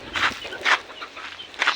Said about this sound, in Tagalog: May mga manok guys at aso